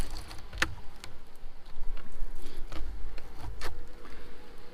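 Japanese honey bees in a hive with tracheal mites make a continuous low drone, with a few sharp ticks and taps scattered over the hum and no talking.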